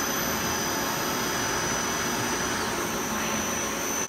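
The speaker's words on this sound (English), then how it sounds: "That's the Nakamura Tw-10." A Nakamura TW-10 CNC multi-axis turning machine runs a program, giving a steady, loud, continuous machine roar with a faint high whine throughout and no talking.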